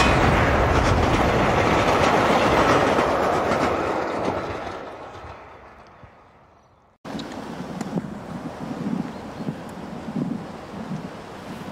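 A train rattles along the rails with a steady clattering roar that fades away, then a closer, rougher rumble of carriages picks up abruptly.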